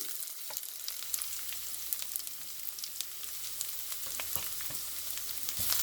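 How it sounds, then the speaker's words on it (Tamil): Chopped onions sautéing in a pan for potato roti, a steady close sizzle and crackle running throughout with occasional stirring scrapes, no talking. "வெட்டி வச்சிருக்கிற வெங்காயம் போடுறேன்"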